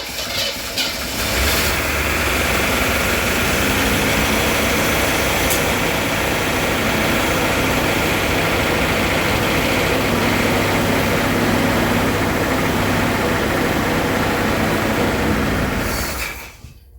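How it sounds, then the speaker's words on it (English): A 1979 Pontiac Trans-Am barn find with a dead cylinder runs steadily at close range for about fifteen seconds, a loud rough continuous drone with a rumbling low end, then cuts off abruptly. "I can still tell that there's a dead hole in this engine somewhere."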